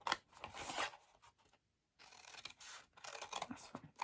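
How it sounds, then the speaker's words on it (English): Scissors snip through a fold-flat cardboard box along its score lines, in close, crisp bursts of cutting and rustling with a short silent pause midway, no talking. "Take that bit out and cut straight up the score lines."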